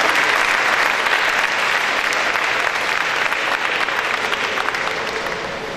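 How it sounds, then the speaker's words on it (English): Sustained applause from the audience at an Indian animal welfare and entertainment awards ceremony, a dense, steady wash of many hands clapping that fades slightly toward the end. "So a big applause for each one of us and each one of you."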